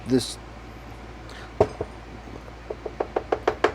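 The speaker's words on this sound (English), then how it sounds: "Hear that knock? That was on wood." A series of sharp knocks on wood, a couple of isolated raps followed by a quickening run of about eight close, crisp taps, set against a quiet garage backdrop while working on a KZ400 motorcycle.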